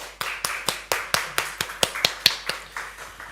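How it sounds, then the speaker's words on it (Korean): A church congregation gives a round of clapping after a service. The claps come in an even, rhythmic pulse, about four per second, crisp and fairly close, with nothing else heard. "다시 한번 박수"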